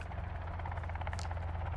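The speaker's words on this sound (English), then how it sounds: "I hear a helicopter." In Sons of the Forest, a helicopter passes overhead with a faint, low, rapid rotor thumping that stays fairly distant and steady throughout.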